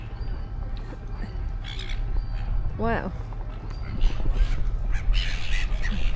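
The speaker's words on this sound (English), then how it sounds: "the seagulls realised what he was doing" Seagulls squawking along the shore at Batemans Bay while a pelican dives for fish, one loud clear cry standing out over steady wind and surf noise, with a brief exclamation from a person nearby.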